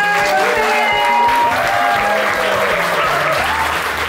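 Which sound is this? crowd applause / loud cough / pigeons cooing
crowd applause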